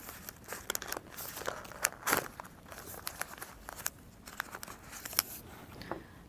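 Oil paper being unwrapped from a valve assembly for a 120 series injector, with close, irregular crinkling and crackling rustles that keep going throughout and have no speech over them.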